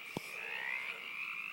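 A loud, sustained frog croak runs throughout, steady and close, with a brief sharp knock near the start and no talking.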